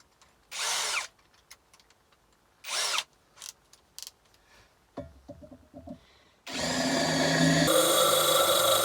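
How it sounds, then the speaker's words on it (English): A power drill with a bit drills through iron while a square iron crucible is being fabricated, heard as short whirring bursts, then a sustained loud grinding bite into the metal toward the end. "this drill bit, which wouldn't drill through that, easily drills through this."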